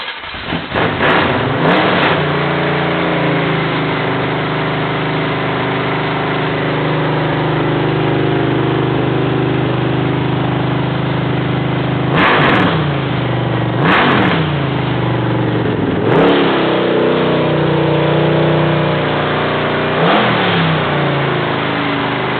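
A 377 small-block Chevy engine on a run stand during break-in, starting and then held at a loud steady rev, with several sharp throttle blips late on, no talk.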